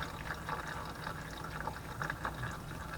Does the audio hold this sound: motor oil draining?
yes